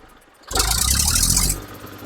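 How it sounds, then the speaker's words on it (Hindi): An old tractor engine in good condition runs loud and close for about a second, a rough rattling drone that then drops back to a quieter idle. "क्या शानदार आवाज है ट्रैक्टर की"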